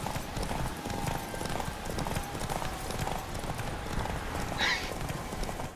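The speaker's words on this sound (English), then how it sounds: "The Witcher 3 was the first entry with horse riding" A horse in The Witcher 3 video game gallops with steady, rhythmic hoofbeats at close range, and a short whinny rises near the end over the running clip-clop.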